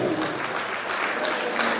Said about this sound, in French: Siaïbou Koïta, applaudissez, on est déjà honoré Siaïbou Koïta.